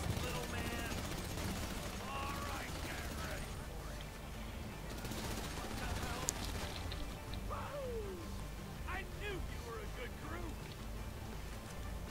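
Rapid automatic gunfire from a shooting video game rattles continuously and densely for twelve seconds, loud and close, with layered bursts and occasional single shots.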